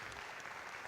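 Audience applause for candidates at a federal election debate, a brief steady wash of many hands clapping together at moderate level, with no voices over it.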